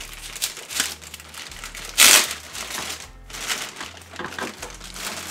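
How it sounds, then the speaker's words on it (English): A boxed 1/12 scale Batman: The Animated Series toy Batmobile is pulled from crinkly protective plastic, giving close, continuous crackling and rustling with one brief louder crunch near the middle. "Here's the Batmobile, wrapped up in protective plastic."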